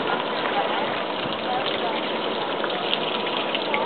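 Water squirting and gushing at a playground water play area, a continuous steady spray with a voice nearby.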